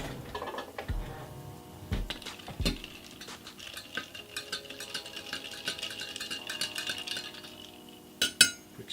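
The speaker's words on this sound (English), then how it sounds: "Quick stir." A spoon stirs cold brew coffee with milk in a glass, with quiet, rapid clinking and tinkling against the sides and a few louder knocks, heard close and alone.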